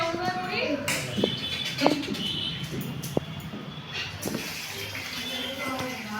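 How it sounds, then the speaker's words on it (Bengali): Water runs and splashes while mutton is washed by hand. The flow is uneven, with sharp splashes and clatters, and indistinct voices can be heard in the background. "মাংসটা ভালো করে ধুয়ে নিচ্ছি"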